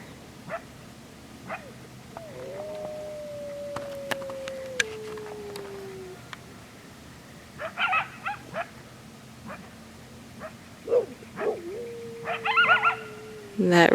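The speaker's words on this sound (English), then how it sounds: "that right behind me is Starfish Prime, my dog" A pit bull stands near a fence on a rural property while wild coyotes are nearby, giving whimpers and thin whining yips among short sharp sounds and scattered outdoor noise, moderately close.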